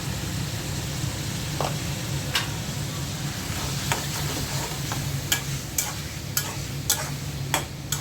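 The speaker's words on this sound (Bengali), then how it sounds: "এখন ভালো করে কষাবো।" Ginger-garlic paste, salt, roasted cumin, turmeric and red chili powder stir-fried in a pan for a green chili curry, with a steady sizzle and sharp spatula clicks that grow more frequent toward the end, no talking.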